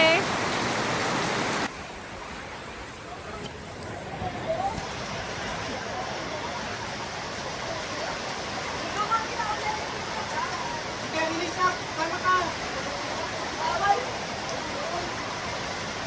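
Rain hisses down, louder for the first moments then settling into a softer steady patter with faint scattered drips.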